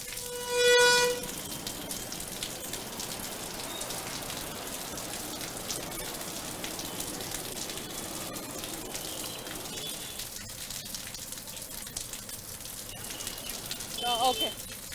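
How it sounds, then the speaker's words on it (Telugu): Steady heavy rain falls over a Hyderabad road during a long downpour with jammed traffic. It makes a constant broadband wash at moderate level, with a short tonal burst near the start and another swell at the end. "గంట పాటు నుంచి ఏకదాటిగా వర్షం కురుస్తున్నట్టుగా తెలుస్తుంది"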